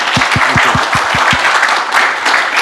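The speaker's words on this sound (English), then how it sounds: "Can you give them a round of applause for spending their time?" Applause at a London talk on blockchain, a loud dense crowd clapping that stays steady throughout, with a rhythmic low thumping of beats early on beneath it.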